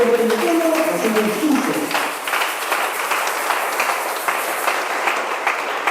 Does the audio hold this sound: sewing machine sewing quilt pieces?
no